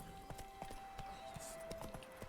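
Horse hooves clip-clop at a steady walking pace in The Witcher 3, quiet and regular beats under a faint tonal game soundtrack.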